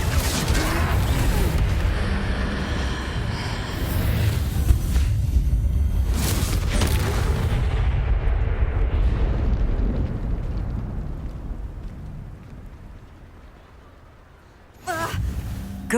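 A Confringo fire spell blasts in the Hogwarts Legacy game during a troll fight, a loud booming explosion with a long rumbling tail that fades over several seconds before a brief new burst.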